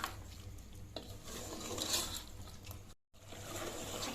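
Chicken curry with masala being stirred in a pan, a spoon scraping and clinking against metal over a soft sizzle, steady and close, with a brief break near the end.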